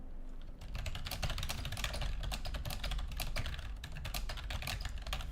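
Rapid, steady clatter of fingers typing on a computer keyboard, close and continuous with dense overlapping key clicks throughout, no voices.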